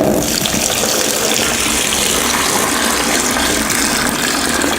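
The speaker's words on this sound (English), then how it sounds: "I got some water, which I'm gonna pour inside the trash bin" Water gushes in a continuous, loud stream as it is poured into a trash bin, a steady splashing pour from close by with no pauses.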